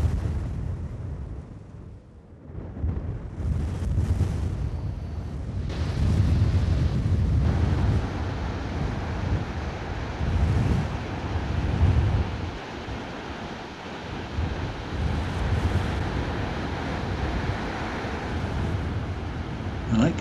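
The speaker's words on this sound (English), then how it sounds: "A brisk wind is blowing, kicking off the waves in the water" Strong wind roars across the microphone while Pacific ocean waves crash and surge in repeated heavy washes on the US West Coast, a loud, continuous, turbulent rush with no voices.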